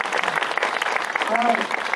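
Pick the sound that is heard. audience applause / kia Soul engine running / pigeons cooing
audience applause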